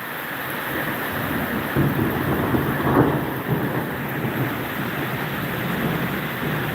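Thunder rumbles through a sudden spring rainstorm, heavy rain pouring steadily throughout with a low roll swelling around the middle, outdoors near a lemon tree.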